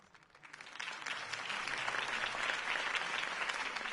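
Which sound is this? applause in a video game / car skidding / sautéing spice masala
applause in a video game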